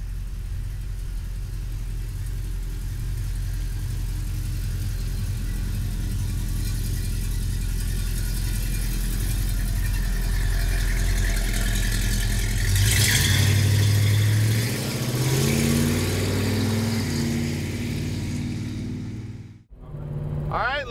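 A plum crazy 1970 Dodge Charger engine rumbling steadily at idle for a long stretch, then revving up loudly near the midpoint before settling, with a brief cut near the end.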